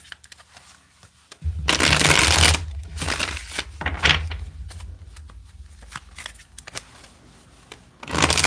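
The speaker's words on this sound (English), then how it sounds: "Let's get two more shuffles." Tarot deck being shuffled by hand, bursts of riffling and sliding card noise at close range, with softer handling in between and a voice heard faintly at times.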